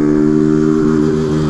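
A small motorcycle engine revs nearby, a loud buzzing drone with steady throbbing pulses, alone without talk.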